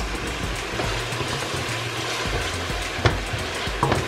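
Tomato paste cooks in a pot for Ghanaian turkey stew, giving a constant bubbling sizzle with a couple of sharp stirring clinks near the end.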